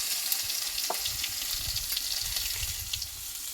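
A ground paste of green chilli, ginger and whole cumin is added to hot oil in a frying pan, setting off a close, continuous sizzle with light spatters and soft stirring scrapes, and no voices.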